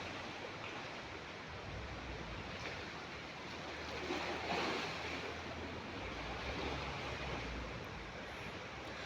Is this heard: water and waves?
yes